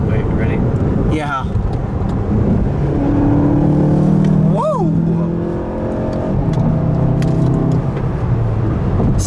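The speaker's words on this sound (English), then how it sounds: "It's a hatchback that has sporty performance." A sports hatchback drives along Highway 281 in San Antonio, Texas. A steady, loud engine and road drone fills the cabin, with people talking inside the car throughout.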